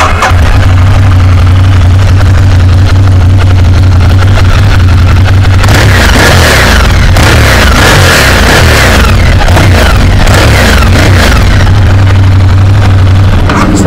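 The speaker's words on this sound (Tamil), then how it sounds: "இனி வந்து ஸ்டார்ட் பண்ண ட்ரை பண்ணலாம், எக்ஸாஸ்டோட சவுண்ட் பார்க்கலாம்." A Ducati Diavel motorcycle engine idles with a loud, steady, deep exhaust throb, revs hard several times midway, then settles back to idle, heard close up.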